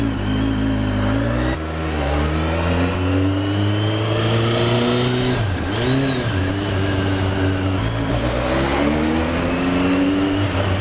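A BMW K1300S motorcycle engine accelerating on the road: a loud, continuous droning roar whose pitch rises through the revs, dips briefly at a gear change and climbs again, close to the mic with no talking.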